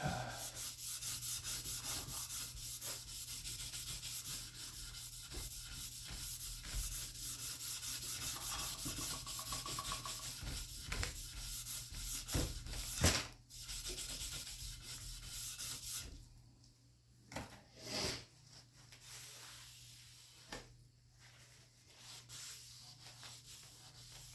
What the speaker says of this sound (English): Give it a once over with the Scotch-Brite.